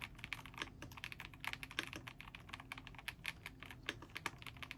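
Rapid keystrokes clatter on a mechanical keyboard in an irregular but continuous typing run, close and quiet, with no talk.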